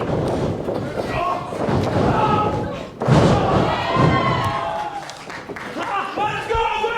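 A wrestler is kicked in the face in a wrestling ring, a sharp heavy thud over crowd noise with a commentator talking throughout.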